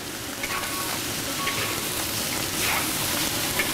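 Chicken stir-frying in a hot wok gives a steady, dense sizzle and hiss that runs unbroken throughout, close and even, with no voices.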